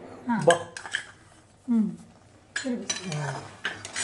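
A metal spoon clinks and scrapes against a pan several times while sugar goes into bread halwa, in sharp separate taps spread across the moment, close and fairly clear.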